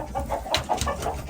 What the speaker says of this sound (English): This is our big white rooster.